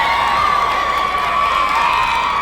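Montague fans cheer at a 1996 Class C high school volleyball final against Hanover-Horton, a steady, loud crowd roar with shouting filling the gym throughout.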